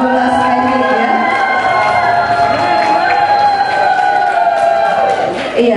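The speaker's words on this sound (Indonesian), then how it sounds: "kita berikan tepuk tangan yang meriah untuk Fakultas Teknik ya" An audience cheers and shouts steadily for an engineering faculty choir, the crowd noise loud and sustained from start to finish.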